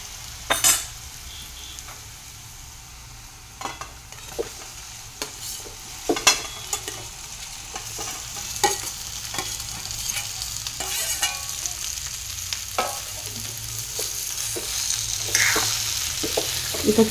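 Potatoes sautéing in a pan over low heat, a soft continuous sizzle broken by repeated spoon scrapes and clinks against the pan, rising slightly toward the end.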